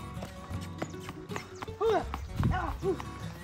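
Horse hooves clip-clop on hard ground as a mare is ridden and rounded up, with uneven clattering steps, a few whinnies, and people talking nearby.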